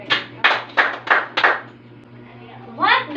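A class claps in unison five times, evenly spaced sharp claps close by, followed by a brief moment of voices chiming in at the end.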